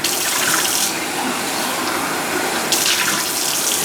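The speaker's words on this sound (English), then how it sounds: "So, we'll rinse our container here." A tap runs steadily while a mason jar is rinsed out under it, a loud, close, continuous rushing splash with brief brighter surges near the start and again toward the end, and no voices.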